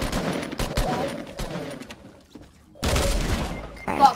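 Rapid bursts of gunfire in Fortnite rattle out in two loud clusters of close, fast shots, separated by a brief lull of quieter game sound.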